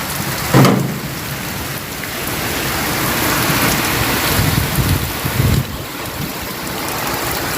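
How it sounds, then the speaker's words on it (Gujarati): Heavy rain pours down steadily in a loud, constant hiss, with a couple of brief louder rumbles breaking through. "જોરદાર વરસાદ પડે"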